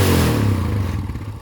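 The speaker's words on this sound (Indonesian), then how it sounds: "Belum kita gas ya. Nah, sekarang kita gas." A Yamaha Scorpio motorcycle engine that has a weak battery runs loud and close, with a rough, throbbing idle that rises as the throttle opens and then eases back over a second and a half.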